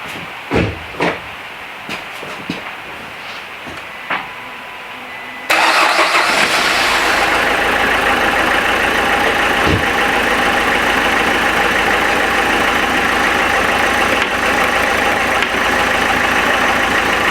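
A Renault Clio 3 engine gets a few faint clicks, then cranks and catches into a loud, close, steady idle that runs on without change.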